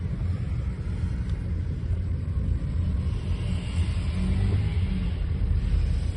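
Steady low rumble of vehicles stuck in a traffic jam near a Dubai mall, a continuous dense engine drone with wind buffeting, no clear individual horns.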